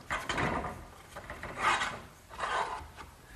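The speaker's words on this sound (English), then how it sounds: "Now the conduit just gets slipped through the hole I drilled and through the eye bolt." A metal conduit slides through a drilled hole in wood and an eye bolt while a garden swing is assembled, making three rasping scrapes close by, each swelling and fading.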